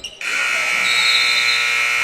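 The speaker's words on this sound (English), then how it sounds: "Buzzer runs out of time, and Grace still at that 32-18 lead." A basketball game buzzer at a women's basketball game sounds one loud, sustained electronic blast that starts abruptly and holds steadily through to the end.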